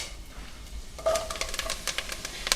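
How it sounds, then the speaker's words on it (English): Mushrooms dropped into a hot, oiled pan for a brunch dish, starting from a quiet hum and breaking into a sudden, steady crackling sizzle with light stirring clatter, close and moderately loud. "Okay, so I'm gonna go in with my mushrooms."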